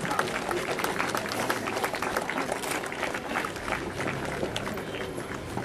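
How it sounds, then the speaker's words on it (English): An audience applauds prize winners at a Republic Day ceremony at Veltech University: steady, moderately distant clapping from a large crowd with some crowd noise. "Please give their appreciations by your applause."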